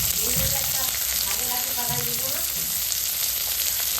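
Green chilli, panch phoron and chopped onion fry in oil with a dense, constant hissing sizzle close to the mic, while a voice speaks faintly underneath.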